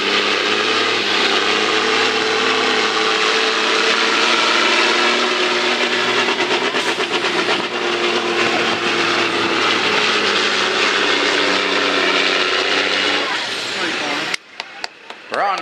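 At a county fair truck pull, a pulling truck's engine roars loud and sustained with a high turbo whine, then cuts off abruptly near the end, followed by a few sharp knocks.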